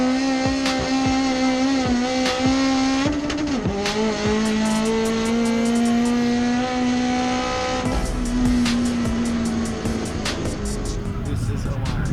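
Front-wheel-drive Nissan Pulsar drag car at a Jamaican speedway track day, its engine revving loud and close with sustained high-pitched drone and rising pitch through gear changes, tyres squealing; voices talk over it.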